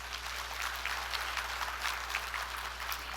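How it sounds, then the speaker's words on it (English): Audience applause at a leadership training event, a steady wash of many hands clapping at moderate distance, heard under a constant low electrical hum. "Give Riway a round of applause."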